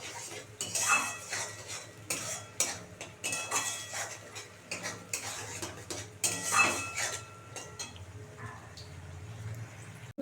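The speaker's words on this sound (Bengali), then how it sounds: "একটু ফ্যাটানো টক দই দেবো মশলাটা ভালো করে এখন দু মিনিট ধরে কষবে" A spoon scrapes and stirs a spice paste with whisked yogurt as it roasts in a pan, making continuous close metallic scraping and clinking, busy and steady throughout.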